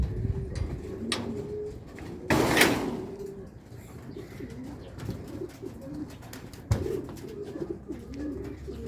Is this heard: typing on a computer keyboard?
no